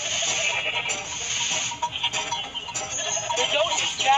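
Cartoon goat bleating in a children's farm game about milking, a bright, close, continuous bleat running the full length over busy game sound effects.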